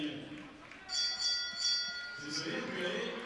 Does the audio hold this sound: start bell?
yes